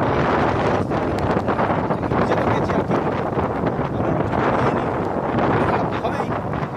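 Heavy rain and gusting wind on a roadside where riders have parked their bikes and stand waiting: a dense, steady roar of downpour and wind buffeting the microphone without letup.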